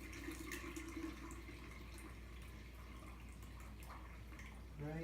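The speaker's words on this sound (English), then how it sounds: "top her up with the rest of your water here" Water pouring into a Mr Beer home-brewing fermenter to top it up, a faint, steady run of filling water with small drips and splashes, captured quietly and close.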